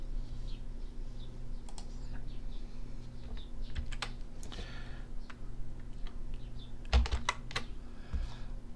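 A computer mouse clicks repeatedly at an editing desk, a close, dry run of quick irregular ticks over a steady low hum, with no talking.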